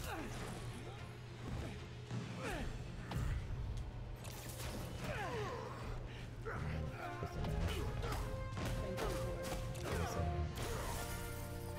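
A floor caves in during a Spider-Man video game fight, with repeated crashes, smashing impacts and debris amid busy combat noise, while someone talks over it.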